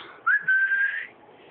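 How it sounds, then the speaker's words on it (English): A person whistles one high-pitched note close by, sliding up briefly and then holding steady for about a second, alone in near silence. "my whistle's so high"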